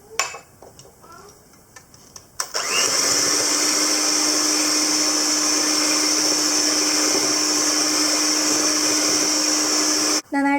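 Electric beater whipping egg yolks with sugar, a loud steady whir that starts abruptly after a few seconds of faint handling noise and runs continuously before cutting off near the end.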